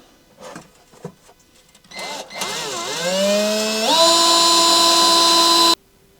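A power drill bores into an old steel RV step while installing a step stabilizer kit, starting with a few short bursts, then a sustained whining tone that rises in pitch and runs loud before cutting off abruptly.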